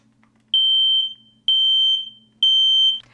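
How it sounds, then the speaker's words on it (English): A smoke detector, test button pressed, sounds three loud, piercing high-pitched beeps, each about half a second long, evenly spaced in a quiet room. "So I have the smoke detector here, and I'm just going to push the button for a test here."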